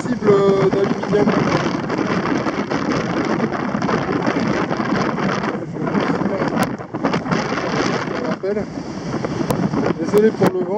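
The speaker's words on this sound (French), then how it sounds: "Désolé pour le vent" Steady wind buffeting the microphone on a seashore, a rough broadband rush that persists throughout with occasional gusts.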